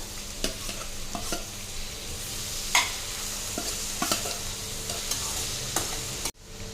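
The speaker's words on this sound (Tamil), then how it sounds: "கலந்து விட்டுறலாங்க வெங்காயம் வதங்கி வரட்டும்" Crushed shallots frying in oil with salt for a cabbage ball gravy, a steady sizzle under repeated scraping strokes of a spoon against the pan, close and fairly loud, with no talking.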